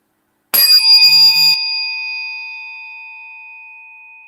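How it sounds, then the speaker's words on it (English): A biofield tuning fork is struck once and rings out with a clear, bright metallic tone that sustains and slowly fades over several seconds, close and alone. "you'll be able to stand the sound of the tuning fork"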